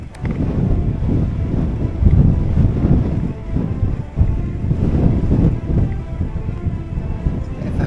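Strong wind gusts buffet the microphone outdoors at Ogden Waters on a wet, muddy day, a continuous loud low rumble with surging blasts and no voices.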